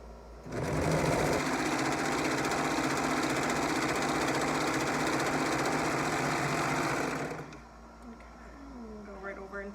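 Sewing machine running in one continuous fast burst of about seven seconds, stitching the shoulder seam of a dress, loud and close, then stopping abruptly before a voice speaks briefly.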